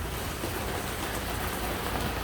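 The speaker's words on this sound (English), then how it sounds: "I don't know if you guys can hear the rain behind me" Steady rain falls outside behind a carport in humid Florida, a dense even hiss of drops on surfaces that holds constant throughout with no talking.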